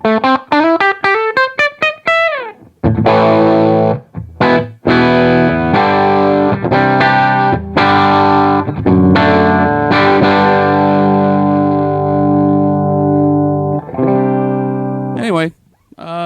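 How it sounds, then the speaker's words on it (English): An electric guitar plays through a 1967 Marshall Super Lead amplifier, loud, thick and overdriven, with rising bent notes opening into sustained chords and short pauses, heard alone and close. "It sounds like a Marshall. It's big and bold and wonderful and a little on the thick side."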